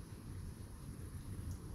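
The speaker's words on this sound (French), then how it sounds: "des grosses gouttes qui tombent" Heavy raindrops during a violent night thunderstorm in late June, a dense low rumbling patter with steady wind-like noise, faint and continuous for a couple of seconds with no voices.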